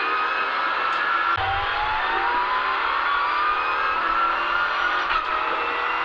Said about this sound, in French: On sent que le moteur en veut, ça c'est sûr.